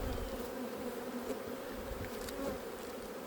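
Dense, steady buzzing of honeybees packed into a crowded hive during a spring inspection, a close, continuous drone with no breaks and no voices.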